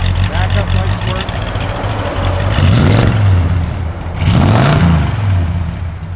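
A 1967 Plymouth Belvedere V8 with a mild cam, heard close up with a loud, lumpy idle that rises in two distinct revs and then settles back each time.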